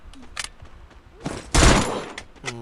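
Rapid bursts of MP40 submachine gun fire in the mobile battle game Free Fire, a loud, dense volley at mid-clip with scattered shorter shots around it.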